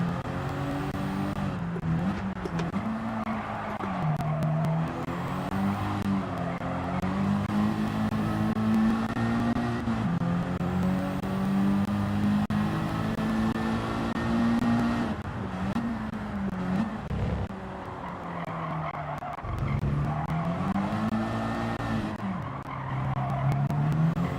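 A race car engine in the video game Gran Turismo 7 drones and revs up and down continuously, with gear shifts. Skidding tire squeal mixes into the roar throughout.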